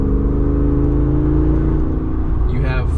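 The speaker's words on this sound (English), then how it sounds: "all of a sudden you can just put your foot down slightly and" A 470-horsepower V8 Jeep Wrangler engine hums steadily and builds as the driver presses the throttle, heard from inside the cabin with a voice over it.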